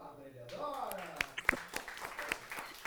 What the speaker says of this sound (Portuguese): Palmas para Bárbara Leonora